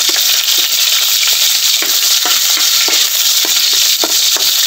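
Garlic fries in a hot pan at the start of cooking octopus adobo with oyster sauce, a loud continuous sizzle broken by light scraping and stirring clinks, with no talking.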